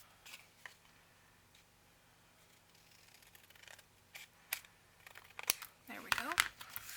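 Scissors cut straight across book pages for a hard-cover journal, faint snips at first that grow into louder, closer crisp cuts and paper rustling near the end, with a quiet background.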